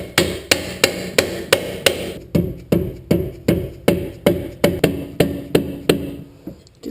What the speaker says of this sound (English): When in doubt, use the mallet.